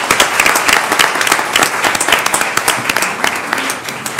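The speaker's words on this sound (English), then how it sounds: "Can we have a round of applause, please, for their really outstanding work?" A meeting audience at an El Paso County Commissioners Court session claps steadily after a presentation, dense applause holding at full strength throughout before easing slightly at the end.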